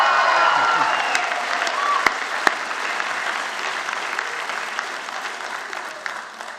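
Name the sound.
audience applause at a convocation ceremony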